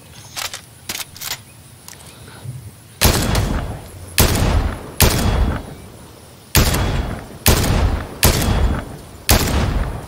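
Gunfire in the video game Fortnite: sharp, loud shots in rapid bursts that come in several clusters, preceded by a few lighter pops.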